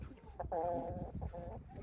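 A hen clucks in a few short, close bursts with a tonal, wavering quality, set against low background noise and no speech.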